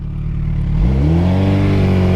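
A motorcycle engine idles, then revs up hard as the rider works the clutch, the pitch climbing steeply and holding at a loud, sustained drone close by.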